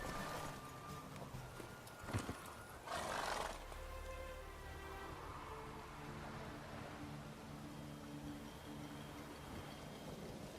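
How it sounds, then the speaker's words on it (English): A horse in The Witcher 3 moves with soft hoof clops and a brief whinny-like burst amid faint rain and ambient game sound, all fairly quiet, with no speech. "Whoa there, Roach"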